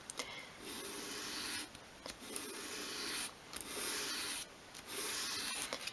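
A miniature wooden sideboard leg is rubbed back and forth on sandpaper to taper the foot, giving soft, close scratchy strokes in four or five bursts separated by short pauses.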